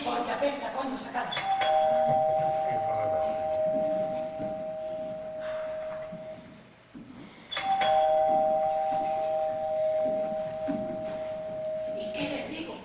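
A doorbell rings twice during a stage play, each long sustained chime spaced several seconds apart, with actors talking over and between the rings on a reverberant stage.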